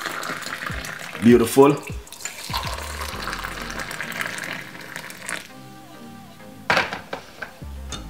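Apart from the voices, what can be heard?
hot water being poured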